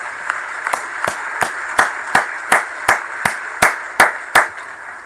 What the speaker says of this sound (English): How about a round of applause for what Las Vegas is able to do?